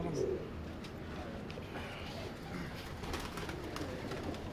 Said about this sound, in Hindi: ये हमारे नीले कबूतर हैं।